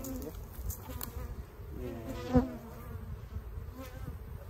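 Honey bees buzz steadily around an opened beehive during a late-summer hive split, a dense close droning swarm sound throughout, with a brief louder thump midway and a single short spoken word.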